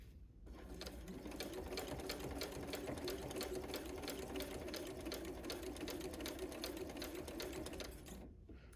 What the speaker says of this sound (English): I'm just going to lock that stitch by taking a few stitches in place